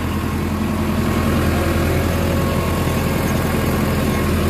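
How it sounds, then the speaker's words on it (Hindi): An Indo Farm 3065 DI 65 HP tractor engine running steadily, slightly down on power, giving a continuous low, even rumble close by with no voices. "बाकी ट्रैक्टर सही चल रहा है।"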